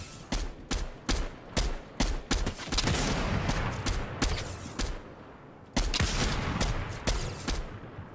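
Sniper and other gunfire in Fortnite: a rapid run of sharp, loud shots, then a denser burst of overlapping fire and a second volley after a short gap, with no talking.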